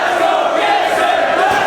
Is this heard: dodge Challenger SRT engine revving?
no